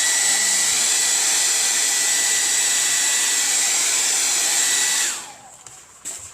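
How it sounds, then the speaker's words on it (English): A hair dryer drying paint on a painting gives a loud, steady, close whir for about five seconds, then switches off and winds down into quiet. "Now with your hair dryer, you can dry this in about"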